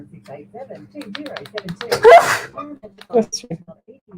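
A sudden, loud sneeze bursts out in a radio studio partway through an announcer's steady talk, with speech continuing around it.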